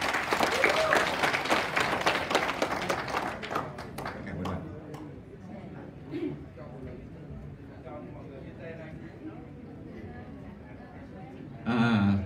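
Applause rises from the audience at an international SKYWAY conference in Hanoi, a burst of clapping that fades within a few seconds into quieter room noise before a brief renewed swell.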